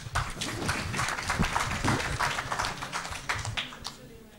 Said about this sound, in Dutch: Applaus graag.